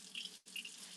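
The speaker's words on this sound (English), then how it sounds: "you'll see them splashing some water" Water splashes onto sourdough dough on a worktop in two brief, close bursts with a short gap between them; a steady watery hiss and no voices.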